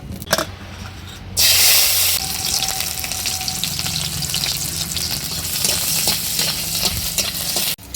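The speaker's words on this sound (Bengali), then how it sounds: "শুকনা মরিচ ভাজতেছি।" Dried red chillies fry in a pan for a village-style crab bharta, giving a loud, steady sizzle. It flares into a harsher hiss around the midpoint, with occasional stirring scrapes, and no voices.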